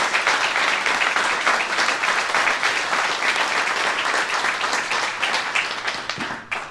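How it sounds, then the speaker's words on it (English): Loud, dense audience applause for a governor at an Indigenous People's Day celebration, sustained clapping filling nearly seven seconds before tapering at the end, with no speech over it. "Let's all just give Governor Evers another round of applause."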